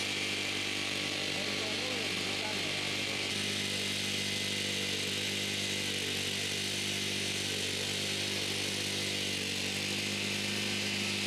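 Radio-controlled lawn mower with a 53 cm cutting width, able to work slopes up to 45 degrees, its engine running steadily and loudly throughout with a constant drone, a voice speaking over it.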